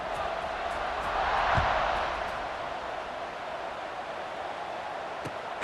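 Steady, broad stadium crowd roar in the College Football 26 video game as the teams line up for a kickoff, swelling slightly and then holding at an even level with a couple of faint thumps.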